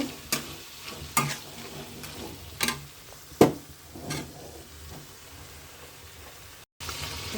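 Chicken pieces sauté in a pan with spice paste, a soft steady sizzle punctuated by several sharp scraping strokes and knocks of a spoon, quieter toward the end.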